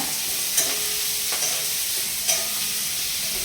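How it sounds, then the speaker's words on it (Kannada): Onion frying over a medium flame until browned, with curry leaves tempered in the pan, giving a steady close sizzle broken by a few brief stirring clinks. "ಮೀಡಿಯಮ್ ಫ್ಲೇಮಲ್ಲಿ ಈರುಳ್ಳಿ ಬ್ರೌನ್ ಕಲರ್ ಆಗೋವರೆಗೂ ಫ್ರೈ ಮಾಡ್ಕೊಳ್ಳೋಣ"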